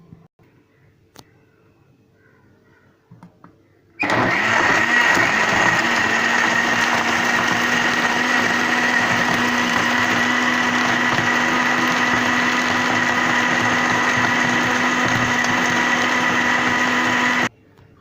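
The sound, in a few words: blender blending banana, dates and milk shake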